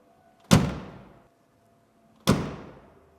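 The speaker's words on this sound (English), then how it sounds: "That's how a door needs to sound when it closes." Two solid door closings on a classic Mercedes-Benz, each a heavy thunk with a short ringing decay, spaced a couple of seconds apart, close by and otherwise quiet.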